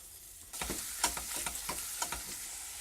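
Onions and garlic drop into a pan of hot oil, and a sudden sizzle starts, followed by a run of quick stirring scrapes over a steady frying hiss.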